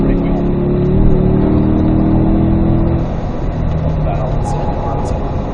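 A car engine revs hard under acceleration on a racing course, loud and close from inside the cabin, the pitch climbing for about three seconds before the note drops as the driver eases off.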